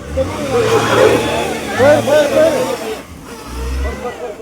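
A car stuck in mud at Suruli revs its engine in short low bursts under loud, close conversation between people, the engine droning beneath the voices.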